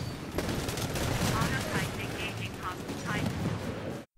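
Continuous rapid gunfire from a player shooting at enemies in the shooter game Titanfall, loud and close, with sharp overlapping shots and in-game sound effects running steadily throughout.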